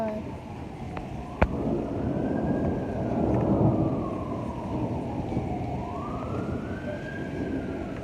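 A police car siren wails in slow rising and falling sweeps through a heavy hailstorm, hail and rain roaring steadily underneath, with a sharp crack near the start.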